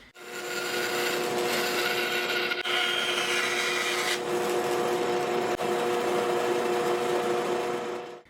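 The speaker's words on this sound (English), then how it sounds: "Now I can go over to the 14-inch bandsaw and cut these off square, cut these curves square." A 14-inch bandsaw cutting curved wooden parts square for a shave horse, a steady loud buzzing cut with a continuous motor hum that runs without pause, close by.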